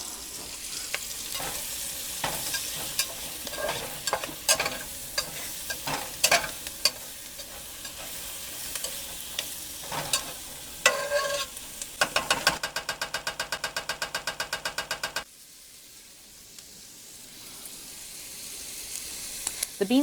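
Sausages warming and rendering fat in a pot for Cajun New Orleans-style red beans and rice sizzle steadily, broken by scraping stirs and a quick clicking rattle, before the sound drops to a quieter hiss.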